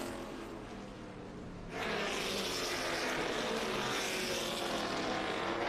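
A loud, sustained roar of a race car engine at speed at Caraway Speedway, steady and close, rising sharply in intensity partway through.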